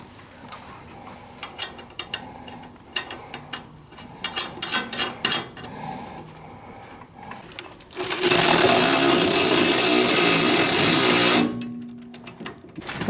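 Rapid whirring and chattering of a power tool spinning the top nut onto a Honda Civic coilover during a front suspension install, with scattered metallic clinks before a sustained loud burst that stops abruptly.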